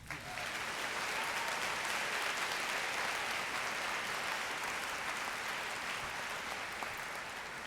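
An audience at a December 2014 university graduation ceremony claps steadily for several seconds: a dense, even wash of many hands without cheering or voices standing out.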